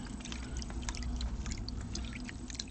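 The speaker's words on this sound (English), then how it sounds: "So really quick pan through just to see if there's anything else possibly left in here." Water swirls and splashes softly in a gold pan as paydirt is panned, a faint, continuous trickling with small drips and sloshes and no voices.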